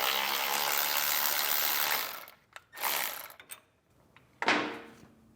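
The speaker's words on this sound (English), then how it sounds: "you can take a 10mm and remove the bolt holding that bracket on" A 10mm ratchet clicks steadily for about two seconds while loosening a bolt from a bracket on a 2016 Chevrolet during an air helper spring install, followed by a few short, separate bursts of ratcheting.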